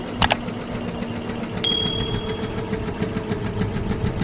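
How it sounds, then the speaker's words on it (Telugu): Sewing machine stitching a cut-work design outline on a parrot-green saree: a steady mechanical whir with a fast even needle rhythm running close and continuous, plus a couple of sharp clicks near the start. "మిషన్ వేస్తుంది ఇప్పుడు"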